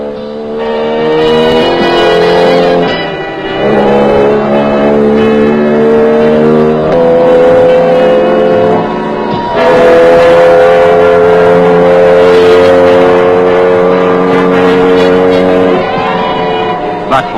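A Jawa motorcycle engine runs loudly and close during a factory running-in test, its pitch climbing and dropping through repeated revs, steady throughout with no voices.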